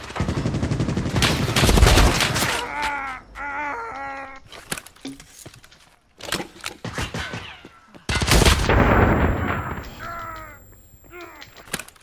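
Rapid bursts of video game gunfire crackle loudly in long volleys, broken by short pauses and sharper isolated shots.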